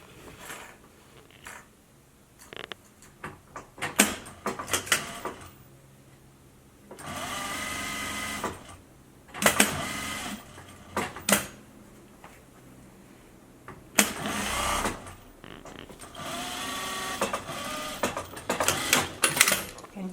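A home sewing machine stitches a cloth face mask in several short runs, whirring loudly in bursts of a few seconds each, with a person talking in the pauses between them.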